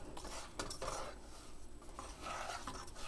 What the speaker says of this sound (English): you put the butter, sugar, flour, and cocoa in there together. Then you just mix it together.